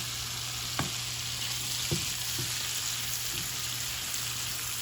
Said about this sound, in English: I'm using a pre-cooked shrimp here. It's about 14, so I have 2 steaks. That'll be about 7 shrimp per steak. Go ahead and dump those in.